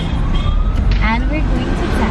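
A voice imitates a rising and falling siren wail over steady road and engine noise inside a car, with chatter nearby.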